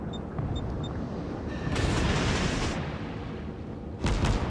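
Naval guns fire in World of Warships around the destroyer USS Sims, two deep, rumbling blasts, the first spreading into a long roll and the second sharp and close near the end, over a constant low engine drone.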